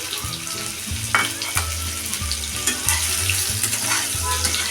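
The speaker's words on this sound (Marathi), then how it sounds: "म्हणजे आता मेथी मोहरी पूर्ण तळून झालेली आहे त्यात आता छोटा अर्धा चमचा हिंग टाकलेला आहे आणि त्यामध्ये टाकूया ह्या कैरीच्या फोडी" Raw mango pieces hit hot oil already holding fried fenugreek seeds, mustard seeds and asafoetida, giving a close, busy sizzle with bubbling crackle and a few stirring scrapes against the pan throughout.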